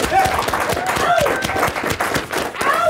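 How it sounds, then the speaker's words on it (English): Lively applause and clapping from a small group at the start of a podcast interview, quick uneven hand claps with a few whoops rising over them, close and loud. "Right now, round of applause."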